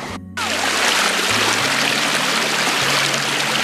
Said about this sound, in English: the waterfall stream is super adorable